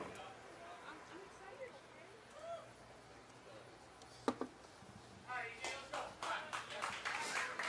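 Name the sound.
premature clapping from the crowd at a bowling final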